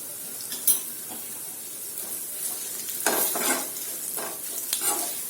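Onions browned in a pan with ginger and curry leaves as turmeric goes in, for a dry potato sabzi; soft close sizzle with a few stirring scrapes and spoon knocks against the pan.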